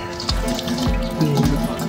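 Juice dripping and trickling from cashew fruit squeezed by hand, a steady liquid patter with a few splashy drops, close and fairly loud with no talking.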